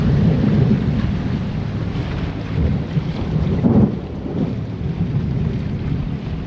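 Thunder rumbles low and heavy during a night storm at sea in the Strait of Malacca, with rain starting and wind buffeting the microphone in a continuous roar that swells briefly in the middle.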